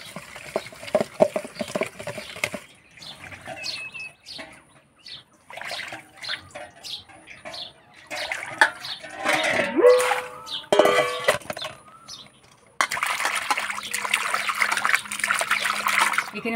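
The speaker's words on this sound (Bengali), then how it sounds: "মাছগুলো কাটে নিলাম, এবার ধুয়ে নিব।" Cut small river fish are rinsed in water, with a soft irregular splashing and trickling at close range. Chatter and background sounds come and go, and a steady hissing wash takes over near the end.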